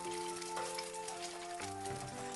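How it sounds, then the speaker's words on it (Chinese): An egg frying in oil left over from pan-frying tofu, giving a steady, fairly quiet crackling sizzle that runs throughout without any voices. "再利用煎豆腐的油把鸡蛋煎一下"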